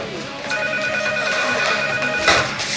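A telephone rings loudly and steadily in a house during a noisy party, its bell tone repeating over background chatter and music.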